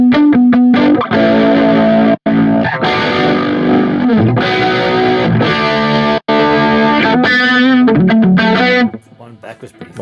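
Electric guitar run through a tri-chorus effect on a Zoom MultiStomp MS-50G+ pedal, shimmering chorused notes and chords played loud and steadily, with brief cutouts, before fading near the end.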